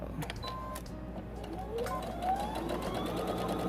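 A sewing machine runs at a moderate pace, stitching a seam on a hanging oven door towel, with light clicks and a soft mechanical hum at low volume.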